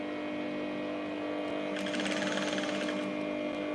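A sewing machine stitches fabric for a sleeve, a steady close whirring hum that picks up into a faster rapid needle rattle partway through.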